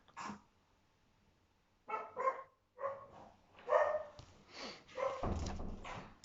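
A dog gives a string of sharp barks and yips spread over several seconds, moderately close, with quiet gaps between the bursts and no talk.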